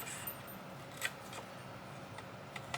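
Scissors cutting a sheet of vellum paper for a junk journal card, a few quiet crisp snips at irregular intervals close by over a faint steady room hum.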